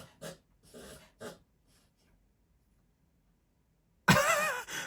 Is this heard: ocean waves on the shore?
no